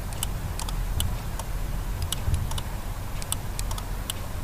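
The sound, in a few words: car central locking actuator clicking, locked and unlocked by remote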